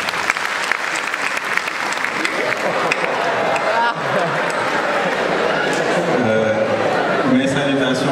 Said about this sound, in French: je demande à toute la salle, au nom de la jeunesse sénégalaise, d'applaudir